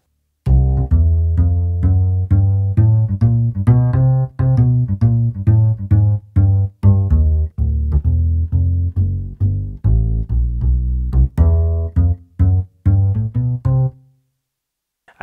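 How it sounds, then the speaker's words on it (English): Acoustic upright bass voice on a Kawai CA79 or CA99 digital piano, a steady walking line of deep plucked notes, roughly two per second, close and full, ending with a few detached notes and then silence. "So you have the sound of the acoustic upright bass."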